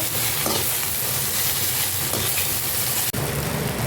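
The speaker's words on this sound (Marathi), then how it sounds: "आता त्याच कढईमध्ये आपण हा कांदा सुद्धा परतून घ्यायचा आहे" Sliced onions for chicken dum biryani fry in a kadhai over a wood-fired stove, a loud, dense, steady sizzle close up with faint stirring scrapes, briefly dipping near the end.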